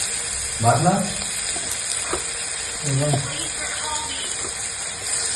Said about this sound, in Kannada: ಮ್ಯಾರಿನೇಟ್ ಮಾಡ್ಕೊಂಡಿರೋದಲ್ಲ ಹಾಗೆ ಹಾಕಿ ನೀಟಾಗಿ ಫ್ರೈ ಆಗಬೇಕಾಗುತ್ತೆ